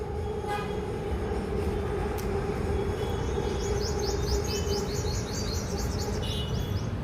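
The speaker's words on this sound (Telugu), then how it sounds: "ఇదిగో మళ్ళీ వచ్చింది ట్రైన్." A train rumbles steadily past with a sustained low drone and hum, while birds chirp in quick bursts above it.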